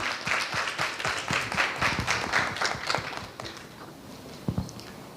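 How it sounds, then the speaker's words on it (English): Scattered applause and claps from a tech summit audience as a presenter walks to the front, fairly close and moderately loud, thinning out after a few seconds with a few isolated taps near the end. "A round of applause for Mary Achieng as she comes to the front."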